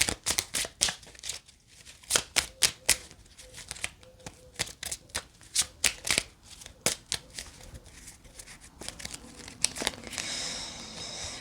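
Message cards are shuffled by hand in a quiet room, a string of brisk, close riffling and flicking bursts in an irregular rhythm, ending in a softer rustle.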